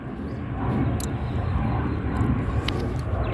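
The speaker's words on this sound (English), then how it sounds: "I'm trying to let the plane pass on by." An airplane passing overhead near an airport, a steady broad engine rumble that swells and holds as it flies by, with no talking.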